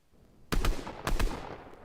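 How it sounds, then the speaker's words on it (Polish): Gunfire in a shooter video game: two quick bursts of close, sharp shots about half a second apart, each with a few rapid reports, loud against a quiet background with no talking. "No niestety nie trafiłem go ani jednym strzałem."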